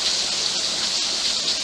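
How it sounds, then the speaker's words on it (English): Heavy rain pouring down outdoors during an onion harvest, a dense, steady hiss of falling water that stays loud and unbroken throughout, with no voices. "it's actually pouring down raining right now"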